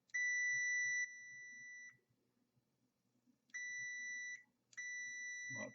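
A multimeter set to continuity mode gives a clear electronic beep when its two probes touch, three tones with short gaps between them, close and alone.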